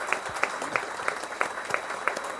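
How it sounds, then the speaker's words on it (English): An audience applauding the college principal at a talk held at an environmental festival, a short burst of clapping with distinct regular claps from nearby hands over a softer crowd wash. "giving a big applause to our principal, Professor Dr. Anand Achari, sir"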